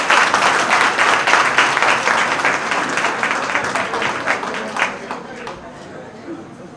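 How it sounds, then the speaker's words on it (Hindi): Loud applause from an audience at a ceremony honouring selected candidates, dense clapping filling the room and slowly thinning toward the end, with a few voices mixed in. "उनके लिए एक बार जोरदार तालीबा"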